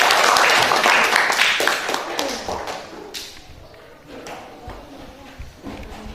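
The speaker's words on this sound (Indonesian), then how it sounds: "Kita kasih tepuk tangan untuk kita semua." A classroom of students claps together, loud and dense at first, then thinning into scattered claps and taps as the applause dies away.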